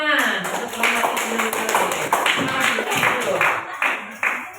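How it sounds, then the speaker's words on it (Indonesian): Classroom clapping by students in a school group-discussion session, a quick run of sharp, fairly close hand claps with voices mixed in. "Oke, tepuk tangan untuk menghormati"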